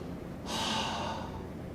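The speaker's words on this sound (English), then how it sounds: "Nice big breath." A deep breath drawn in during a thoracic extension drill for back hump posture, one soft airy inhale that swells and then eases off, close and quiet with no talking.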